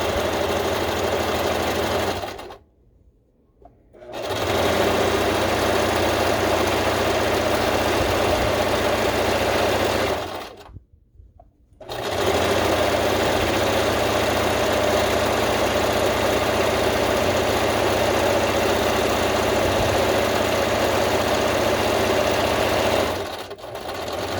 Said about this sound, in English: So I'm gonna start with a back stitch and just sew down.